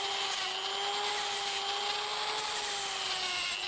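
A power tool whines steadily while cutting into a tabletop terrain piece, a constant buzzing tone with a faint rasp of material being worn away, no voices.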